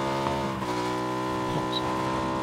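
Boat engine in the video game PUBG, a steady droning motor tone with layered harmonics running continuously and loud throughout, with no talk over it.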